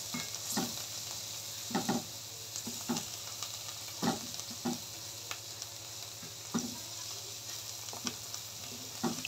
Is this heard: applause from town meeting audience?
no